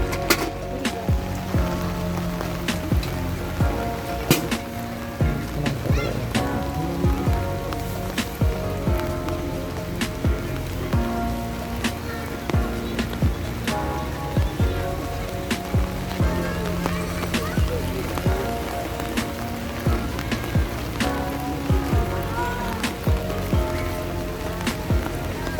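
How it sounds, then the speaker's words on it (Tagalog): Rain falling in Baguio City, a dense continuous patter with scattered sharper drips on nearby surfaces, steady throughout at moderate loudness. "Po ay maulan."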